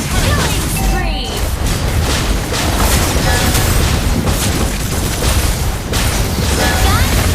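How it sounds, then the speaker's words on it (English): Turret being destroyed in Mobile Legends, heavy booming blasts and crashing game effects layered densely over continuous battle noise, with an announcer voice speaking over it. "Your team destroyed a turret."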